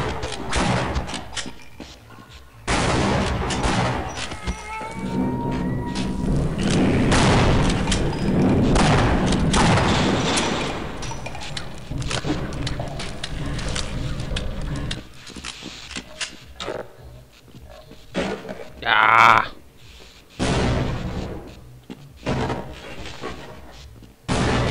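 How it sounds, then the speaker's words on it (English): Satchel charges going off in the Half-Life video game: repeated loud booming blasts and gunfire-like bursts come in clusters, with rumbling tails and brief quieter gaps between them. "Satchel charges. One of the more useful high explosives that you're probably ever going to use."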